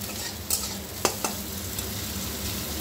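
Onions frying lightly in a pan for Bengali mustard okra (shorshe bhindi), a steady soft sizzle with a few sharp stirring scrapes near the middle, no voices.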